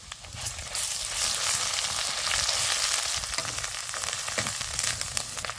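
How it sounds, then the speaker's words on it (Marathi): Mustard seeds, cumin, hing and ground masala crackle in hot oil for a Kolhapuri dal, a loud, steady, close sizzle with rapid popping throughout and no voices. "फोडणीसाठी 1 चमचा मोहरी टाकायची, 1 चमचा जिरं, थोडासा हिंग टाकायचा."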